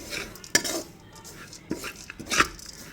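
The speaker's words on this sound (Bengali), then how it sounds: "তো আমি ভালো করে নেড়ে নেব এবারে" A spoon scrapes and knocks against a pan while stirring a dry-fruit and sesame mixture, three sharp clinks among softer scraping, close and fairly quiet.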